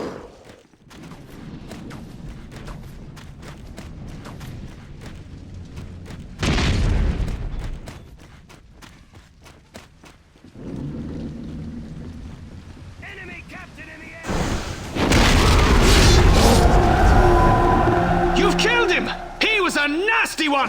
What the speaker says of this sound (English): Saruman's fire machine spews flames of death!